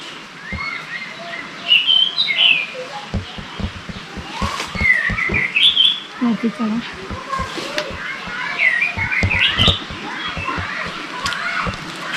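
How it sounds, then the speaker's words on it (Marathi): Birds chirp and whistle repeatedly in bright bursts in an areca nut plantation, mixed with scattered knocks and rustling nearby. "पक्षी बघा छान असे ओरडतात बागामध्ये"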